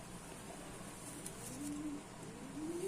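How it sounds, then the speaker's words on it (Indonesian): A breeding pigeon gives a couple of soft, low coos close by, over a steady background hiss; no talking. "Ini merpati indukan teman-teman."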